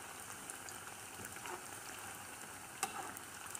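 Food fries in hot oil, turning red on one side, with a faint, steady crackling sizzle throughout and one brief sharper pop near the end.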